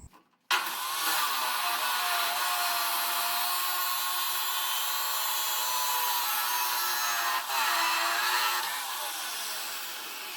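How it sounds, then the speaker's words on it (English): Sanding the eye of a large battle axe, a steady loud abrasive grinding hiss that runs almost the whole time after a brief start, with a short dip and surge partway through. "I'm going to sand that down and make that longer"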